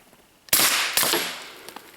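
A single suppressed shot from a Glock 19 with a threaded barrel, firing 147 grain subsonic ammunition: a sharp, loud crack followed by a broad hissing tail with a second burst, then scattered faint clicks and small echoes.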